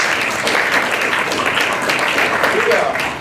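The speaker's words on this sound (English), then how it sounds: "Let's give the Park Service another round of applause." Morning event crowd at Tuskegee gives the Park Service another round of applause: sustained, even clapping from many people, loud and close, holding steady and tapering only slightly at the end.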